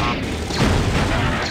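A grenade goes off in the Star Wars Galactic Battlegrounds strategy game, one dull, heavy boom swelling midway through a loud battle din, with no talk over it.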